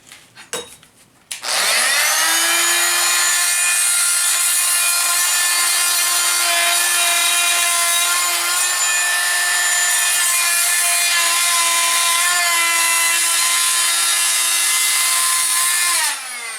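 A rotary grinder works around an antler burr on a reproduction skull, a loud high whine that spins up after a few brief taps and then holds steady, close and unbroken for about fifteen seconds.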